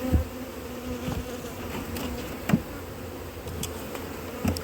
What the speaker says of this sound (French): les abeilles vont entrer dans les deux ruchettes